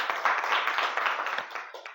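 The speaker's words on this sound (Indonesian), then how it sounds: "Mari kita beri tepuk tangan dulu untuk kita semua." Pupils in a classroom give a short round of applause, moderately loud clapping that tapers off after about two seconds.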